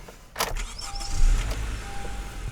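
Key start of a 2015 Honda Accord Sport with a six-speed manual: a brief starter crank gives way to the engine catching and settling into a low idle, heard close with small electronic chimes.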